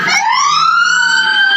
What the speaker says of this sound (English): police cars sped by with their sirens blaring